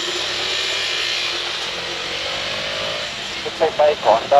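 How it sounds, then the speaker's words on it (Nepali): A Honda motorbike rides along at a steady pace on the way home, its engine and road noise a constant broadband roar, with a few short louder bursts near the end. "यो चाहिँ बाइक होन्डा हो"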